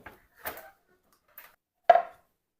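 A few sparse knife chops through mushrooms on a cutting board, four short knocks at irregular spacing, the last one loudest, with silence between.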